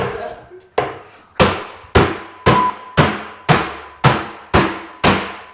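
Eight heavy hammer blows strike a Range Rover Classic body panel at close range, each sharp bang followed by a short ringing decay, delivered at a steady rhythm.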